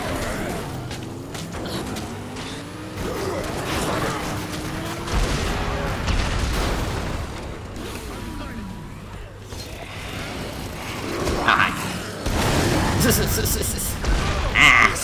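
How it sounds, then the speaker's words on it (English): Repeated booming blasts and crackling bursts from the video game Dead Rising 3, scattered irregularly over about fifteen seconds, with clanking mechanical effects between them. "So many explosions."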